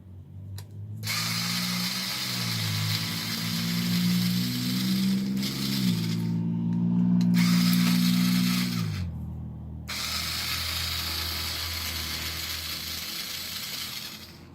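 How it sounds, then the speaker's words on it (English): A Hyper Tough 1/4 inch power screwdriver without an adjustable clutch backs screws out of an Arrma Kraton V3 RC truck, a close, loud motor whir in long bursts that rise and fall in pitch, separated by brief pauses. "I'm using my Hyper Tough 1/4 inch screwdriver, I guess you could say. Does not have an adjustable clutch"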